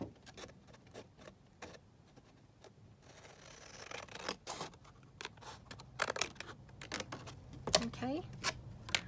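Scissors cut folded paper into a faux envelope for collage book pages, with soft, close snips and rustling handling scattered across the stretch, faint overall and growing busier toward the end.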